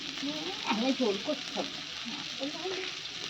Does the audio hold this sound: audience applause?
no